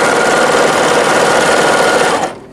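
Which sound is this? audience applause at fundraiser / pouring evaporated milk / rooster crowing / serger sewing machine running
serger sewing machine running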